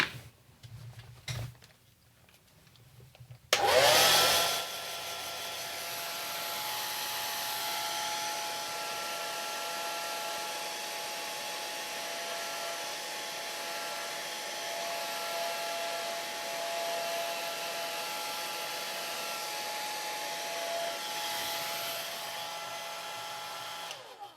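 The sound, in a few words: hair dryer drying a watercolor painting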